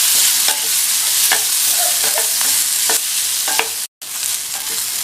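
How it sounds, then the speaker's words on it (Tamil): Carrots fry in hot oil and are stirred, a constant loud sizzle broken by scraping stirs every second or so, close up, with one brief dropout near the end and no speech. "இந்த கேரட்டை 2 நிமிஷம் போல் இந்த எண்ணெயிலேயே நல்லா இந்த மாதிரி ஃப்ரை பண்ணிக்கணும்"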